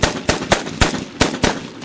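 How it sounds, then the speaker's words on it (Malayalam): Gunshots ring out in a comedy skit, six sharp loud bangs in quick, slightly uneven succession over under two seconds. "എന്റെ ഈ തോക്ക് കൊണ്ട് ഞാൻ അവനെ വെടിവെച്ച് വീഴ്ത്തും."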